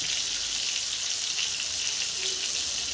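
Chunks of bottle gourd fry on high heat in an uncovered pan, giving a steady, dense hiss of sizzling oil that stays even and close for a few seconds, with no other sounds or voices.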